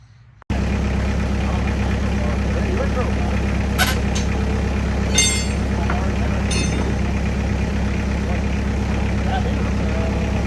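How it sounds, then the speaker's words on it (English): A tractor with a skid attached idles steadily and loudly close by, a constant low engine rumble with a few brief metallic clanks, at a house where a window is being replaced. "we figured the easiest way to do this, Evan, bring the tractor over with a skid on it so we can work basically right up at the height of the window there."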